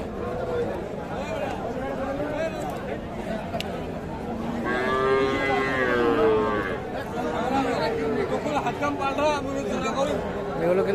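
At a rural cattle market trading young bulls and heifer calves, a cow lets out a long, close moo through the middle, amid constant crowd chatter and people talking nearby.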